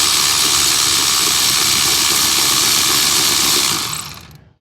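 A mechanic's ratchet works a bolt loose near an injector connector on a 2018 L5P Duramax, a dense, loud mechanical clatter that carries steadily and then cuts off.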